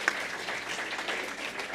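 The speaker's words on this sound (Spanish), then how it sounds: "Un aplauso también para el rector de UNIR." A short burst of audience applause at a university higher-education closing session, steady and moderately distant, with no talk over it.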